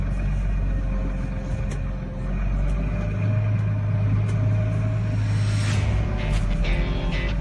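A farm tractor with Topcon GPS steering drives around the yard: a steady, fairly loud engine drone that shifts in pitch as it manoeuvres, with no talking.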